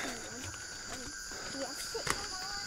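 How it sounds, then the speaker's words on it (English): Night jungle chorus of insects and frogs by the Kinabatangan River in Sabah, Malaysia, with steady high-pitched cricket-like drones and scattered croaks and chirps throughout, fairly faint and continuous. "And now all the night sounds come through. Frogs and all sorts of insects."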